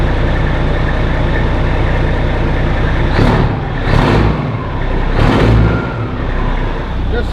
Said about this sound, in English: There's some cold revs because